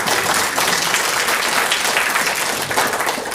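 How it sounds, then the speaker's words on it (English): Dense, sustained applause from an audience at a film screening event, honoring the gaffer who lit the scenes; steady, loud clapping fills the whole stretch without voices. "Go ahead, give him a round of applause."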